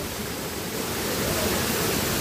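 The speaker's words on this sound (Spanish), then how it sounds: "Esta es la cascada, la más grande aquí en Apatlaco" The large Apatlaco waterfall in Puebla roars in a dense, steady wash of falling water, loud and unbroken from close by.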